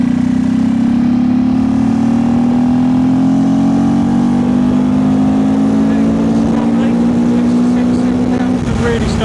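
A KTM 390 Enduro R motorcycle engine pulls in 5th gear at about 30 mph, a loud steady drone that rises gradually in pitch, heavy wind noise around it.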